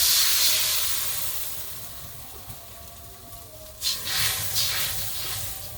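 Water poured into a hot pan while cooking muri ghonto hisses and steams loudly at first, the sizzle slowly fading, then flaring again in a few fresh bursts near the end.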